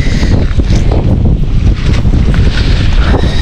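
Strong wind gusting loudly and continuously against the microphone outdoors, a dense, unbroken rumble with no voices.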